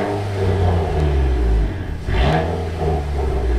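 A car with an aftermarket valved exhaust, valve open, revs with a deep, louder rumble, rising and falling briefly, close by, with no speech.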